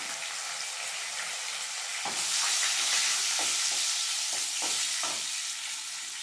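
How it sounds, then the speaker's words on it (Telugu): Tempering seeds, including mustard seeds, sizzle and crackle in hot oil with a steady hiss that swells partway through. Sharp popping bursts punctuate the hiss, and no one speaks. "తగినంత ఆయిల్ కోసం వేడైంది ఇప్పుడు మనం పోపు గింజలు అవన్నీ వేసేసుకున్నాం"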